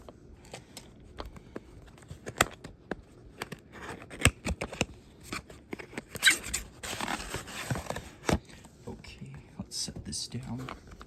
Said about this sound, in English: Set this down, cut through tape.